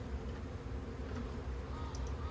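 Honey bee swarm buzzing steadily during a hive cutout at a house, a continuous low drone of many insects filling the whole stretch at moderate level, with no talk.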